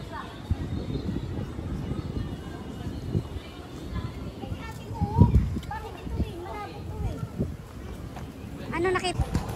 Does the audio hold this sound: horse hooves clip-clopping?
yes